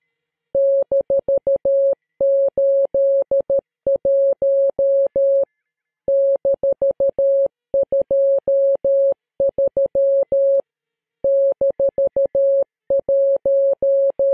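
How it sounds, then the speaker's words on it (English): Morse code signal from an alternate reality game for Elite Dangerous: a steady single-pitch electronic tone keyed in rapid dots and dashes, grouped in clusters with short pauses, loud and clean against silence. "Some of you may recognize this as Morse code"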